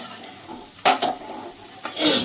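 Fried onion is scooped from a pan of hot oil while cooking hilsa fish bharta, with a few clinking scrapes of a utensil against the metal pan over a soft background sizzle.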